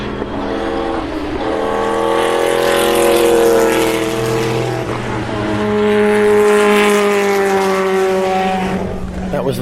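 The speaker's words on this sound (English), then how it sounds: "That was the Martini Lancia," A Martini Lancia Group C race car roars past on a wet track, its engine note climbing in pitch as it nears and fading away, followed by a second loud pass. A voice cuts in briefly partway through.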